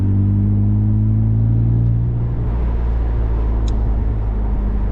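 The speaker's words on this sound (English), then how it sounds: "Obviously, aftermarket exhaust." A 2006 BMW 330Ci ZHP with an aftermarket exhaust idles with a deep, throaty exhaust rumble, steady and loud, with no talking.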